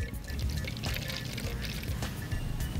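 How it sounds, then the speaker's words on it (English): Water pours steadily into a container that sits on an electronic device with a screen and LED lights, giving a continuous close splashing trickle with no pauses. "our screen will actually tell you how much water you are pouring"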